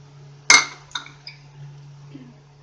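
Metal spoon clinking against a pan while curd is stirred into egg korma: one sharp ringing clink, then a couple of fainter taps and a soft scrape, with quiet gaps between.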